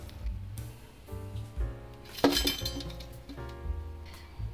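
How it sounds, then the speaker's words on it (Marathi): Crispy fried veg cheese balls are lifted from the pan and set onto a dish. Close, soft clinks and taps sound with one sharper scraping clatter midway. "आता मी डिश मध्ये काढून घेते।"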